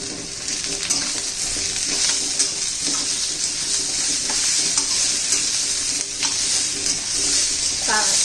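Ginger and finely chopped tomato fry in a pan for egg curry, a loud continuous sizzle with occasional stirring clatters, with no talk over it.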